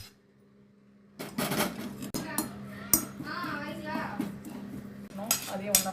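Lightly roasted ingredients for a tamarind rice spice powder being tipped into a pan together, a clatter of metal utensils and dishes with scraping and clinking, someone speaking between the sounds.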